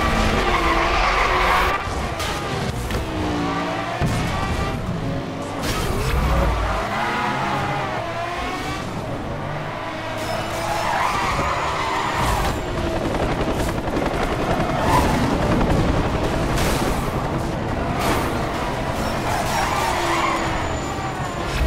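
Cars skid and their tires squeal through a video game street race, with engines roaring and tires screeching in dense, continuous bursts, loud and close for the whole stretch.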